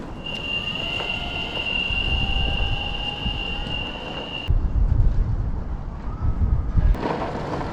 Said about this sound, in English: First time ever using this electric skateboard. Let's see what happens.